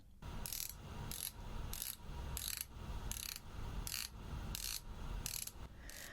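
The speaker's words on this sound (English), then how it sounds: "the 60-click bezel has a high-pitched click that my brain just doesn't like" The scalloped 60-click bezel of an Omega Seamaster is turned in repeated bursts, each giving a rapid run of sharp, high-pitched clicks, about ten bursts evenly spaced, heard close against faint background noise.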